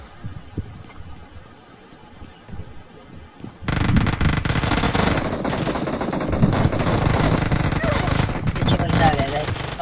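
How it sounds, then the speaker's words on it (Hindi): Gunfire in the mobile battle-royale game PUBG Mobile Lite, a dense, loud burst of continuous rapid shots that starts abruptly after a quieter opening and continues under someone talking in Hindi. "फायरिंग कर रहा है"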